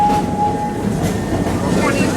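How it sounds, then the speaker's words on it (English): The Serengeti Express roller coaster train at Busch Gardens runs along its track with a loud, continuous rumble and rattle, close and steady throughout. "you'll speed along this coaster back up to 70 miles per hour"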